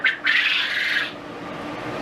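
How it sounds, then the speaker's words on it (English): Quail chicks in a brooder give shrill, high peeping calls nearby, loud at first and then fading into a softer background hiss. "we had 88 quail in the brooder"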